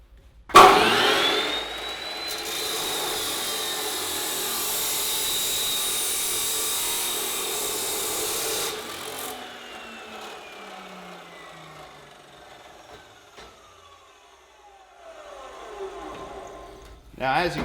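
Saw blade cutting steel stock for a coffee table: a sharp bite, then a loud, steady whine for several seconds, followed by a long falling pitch as the blade spins down, ending in a final clunk. Some talk is mixed in.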